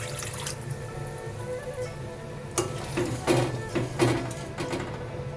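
Water pours into a pan of yogurt-based Bengali katla fish curry to make gravy, a splashing, bubbling sizzle with a few louder bursts over a low background hum.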